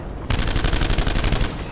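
Rapid automatic gunfire in the online shooter Planetside 2, a loud continuous burst of closely spaced shots starting abruptly after a brief pause and running steadily to the end.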